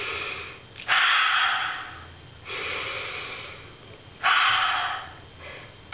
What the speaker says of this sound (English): Breathing is such a beautiful thing.